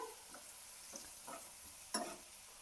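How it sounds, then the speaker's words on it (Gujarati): A spoon scrapes and stirs through food in a pan, a few soft scraping strokes over a quiet background sizzle, with no talking. "બધું સરસ મિક્સ કરી લેવાનું છે"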